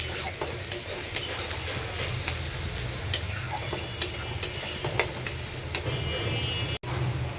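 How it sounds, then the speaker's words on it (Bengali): Spice paste frying in a wok, a constant close sizzle broken by regular scraping stirs and a few sharp utensil knocks against the pan. "তো পেস্ট একটু ভাইজা নিই।"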